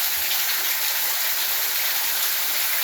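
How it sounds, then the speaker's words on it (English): Heavy pouring rain comes down in a steady, dense hiss, loud and continuous throughout with no voices. "It is pouring down rain."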